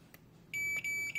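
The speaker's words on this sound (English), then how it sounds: "It will beep 3 times and the red light will stay on here." An SBS-01 barcode scanner for SMT component reels sounds its error signal after reading an incorrect barcode: three sharp, high electronic beeps close by, the first two long and the last short.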